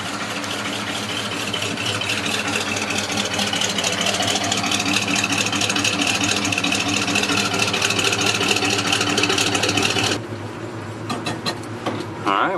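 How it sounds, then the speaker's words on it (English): Idling exhaust of a 1972 Chevrolet C10 Cheyenne pickup with a 400 V8, a steady low rumble heard up close from the rear, fairly loud and continuous, easing slightly near the end. "Move on to the back, let you hear the exhaust."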